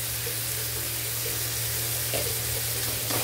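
Fish curry ingredients, with tomato and salt, fry and are stirred in a pan: a steady broad sizzle with a low hum underneath and a few soft scraping stirs near the end.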